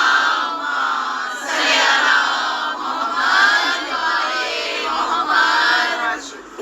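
A crowd at a religious gathering chants the slogan Nara-e-Haidri in loud, rhythmic bursts of massed voices, several swelling calls in succession, close and filling the space.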